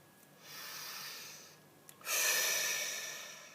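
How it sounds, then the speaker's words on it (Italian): A slow, deep breath drawn in and let out close to the microphone, with a long soft inhale, a short pause, then a fuller, louder exhale, heard alone without talk. "facciamo un bel respiro."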